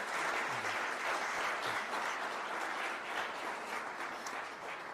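A seated audience at a talk applauds to welcome guests Francesca Mannocchi and Nathan Thrall, a continuous, even clapping wash of many hands at moderate volume with no speech over it.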